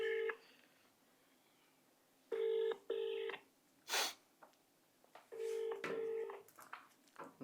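Touch-tone keypad beeps from a telephone dialing a number on a call, arriving in short clustered bursts with pauses between them, clear and close with no talking.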